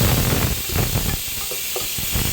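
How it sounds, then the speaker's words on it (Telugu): Onions dropped into hot oil for a chicken gravy, giving a loud, brief burst of hissing sizzle that quickly settles to a steady crackle. "ఆయిల్ కాగింది, ఆనియన్స్ వేద్దాం."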